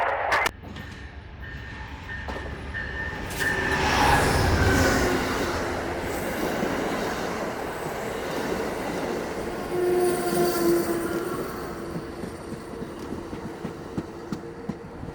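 An Amtrak Cardinal passenger train rumbles past close by at White Sulphur, West Virginia, wheels clattering on the rails with a brief horn and metallic squeals, the roar swelling then easing.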